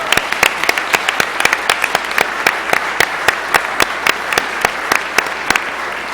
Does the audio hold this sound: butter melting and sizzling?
no